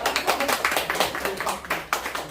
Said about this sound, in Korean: 우리 감사의 박수 한번 보내드릴까요?